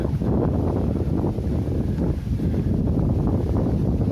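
Strong wind buffets the microphone in continuous, heavy low rumbling gusts with no speech, on a warm, humid, rainy day in Tokyo as rain starts.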